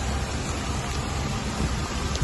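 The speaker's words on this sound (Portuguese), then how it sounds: "tá chovendo muito" Heavy rain pours down outdoors in a constant, broad wash of hiss and patter, close and steady for the whole stretch with no talking.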